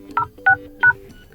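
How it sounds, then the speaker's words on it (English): Three crisp keypad tones sound on a Redmi Note 12 phone as a secret code is dialled, close and clear, evenly spaced over about a second with a faint hum behind them. "go to keypad and enter a secret code"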